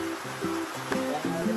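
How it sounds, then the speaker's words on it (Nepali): Heavy rain pours down in a steady, dense wash of noise that never lets up, with faint tonal hums drifting underneath. "एकदम पानी परेको छ केही सुन्दैन पानीले आउँदैन होला तर पानी चाहिँ बबाल परेको छ बबाल"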